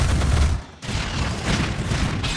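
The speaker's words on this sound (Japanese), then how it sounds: "ミサイル発射。" A missile launch in the One Punch Man: Road to Hero video game gives a loud, dense burst of blasts and rushing noise, briefly dipping before another roaring volley, close and with no talk.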